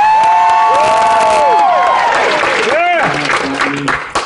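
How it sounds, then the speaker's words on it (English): Loud applause from a TV studio audience at a morning talk show, mixed with cheers, whoops and high shouts, packed and close, thinning out near the end. "Here's the cue for double speed applause"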